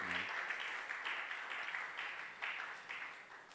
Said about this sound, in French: So if you are here, you just clap your hands.